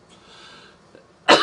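A single sharp, loud cough bursts out close to the microphone at the very end, after a stretch of quiet room tone.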